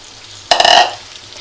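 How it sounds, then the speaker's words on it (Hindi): Chicken, about 1.5 kg, frying in a pan for a chicken curry: a sudden loud burst of sizzling and spatula scraping that lasts under half a second and then drops back to a quiet background. "इसको मैं इसके साथ तकरीबन 5 मिनट या 7 मिनट फ्राई करूँगी ताकि ये चिकन का कलर जो है वो चेंज हो जाए"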